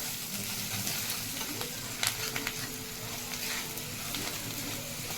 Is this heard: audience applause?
no